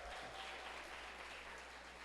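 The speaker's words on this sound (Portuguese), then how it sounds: "Uma salva de palmas para vocês" A church audience applauds at an evening prayer service, a faint, distant and even spread of clapping lasting a couple of seconds.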